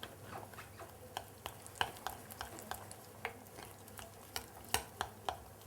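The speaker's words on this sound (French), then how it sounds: "Et tu mélanges bien pour obtenir une pâte." Flour and water being stirred into a dough for a strawberry charlotte, with a steady run of soft scraping and tapping strokes against the bowl, fairly quiet and close, and no talking.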